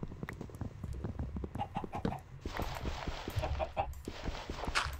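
A Minecraft chicken clucks in short, soft bursts over a few seconds, mixed with faint game footsteps and other small sound effects, fairly quiet and with no talking.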